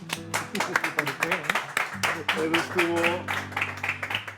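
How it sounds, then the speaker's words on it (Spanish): Applause rises at Café Villarías, a crowd of hands clapping in a dense, quick patter, while a voice speaks over the clapping. "Eso merece un aplauso por parte de todo el Café Villarías"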